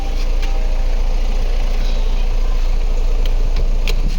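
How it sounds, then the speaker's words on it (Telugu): The diesel engine of a 2016 Ford EcoSport Titanium with about 105,700 km idles with the bonnet open, giving a steady low rumble and even hum, close and unchanging. "ఇంజన్ కూడా సార్ చూపిస్తున్నా సార్ స్టార్ట్ చేసి"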